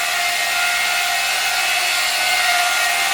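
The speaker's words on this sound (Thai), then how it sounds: "เราประยุกต์เอา เครื่องจับสว่านนะครับเอามา ทำเป็นเครื่องกวน" A drill clamped into a stand and used as a mixer stirs a batch of homemade multipurpose cleaning liquid, giving a steady, loud, unbroken whirring hiss with no talking.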